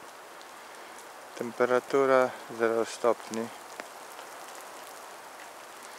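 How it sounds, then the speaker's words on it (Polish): Light rain from melting snow dripping off roofs at zero degrees makes a steady soft patter throughout, and someone speaks briefly over it in the middle. "śnieg zamienia się w wodę i kapie drobny deszczyk."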